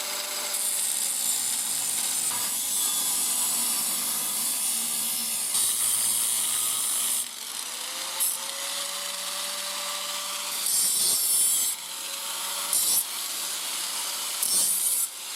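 A 4-inch cutting tool grinds through the crushed end of a steel pipe on a Jeep YJ, a steady, harsh abrasive whine running continuously and close, with brief dips and surges as the cut bites.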